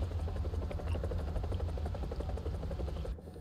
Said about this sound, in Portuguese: Esse helicóptero é tão batata que nem pra subir ele presta